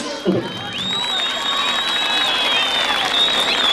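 A festive crowd at a municipal Republic Day celebration claps steadily in a dense, sustained wash of applause, with whistles and scattered voices rising over it throughout.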